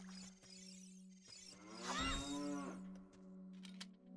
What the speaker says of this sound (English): What the hell, a cow?